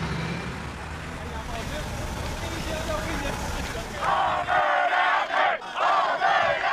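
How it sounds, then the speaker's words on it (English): An angry crowd in Châteauguay yelling and jeering over the blocked Mercier Bridge, a dense roar of many voices with sharper shouted bursts toward the end, traffic noise mixed in behind. "The crowd vents its anger on the effigy of a Mohawk warrior, yelling, "Savages!""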